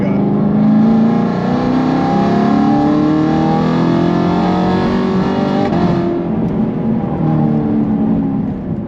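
A car engine revs hard while accelerating in fourth gear from around 3,000 RPM, loud and close, its tone climbing steadily in pitch before dropping briefly as the throttle lifts.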